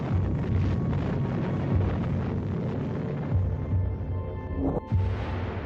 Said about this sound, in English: The atom bomb is dropped anyway.